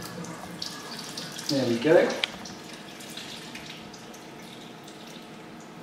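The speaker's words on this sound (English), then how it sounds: "I'm going to pour it over the sink, and if you watch, you'll see the water come out both the top and underneath" Water pours out of a coffee maker over a sink in a short splashing burst that trickles into dripping, with someone speaking briefly nearby.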